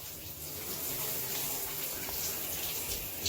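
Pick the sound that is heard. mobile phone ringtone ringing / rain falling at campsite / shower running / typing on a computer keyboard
shower running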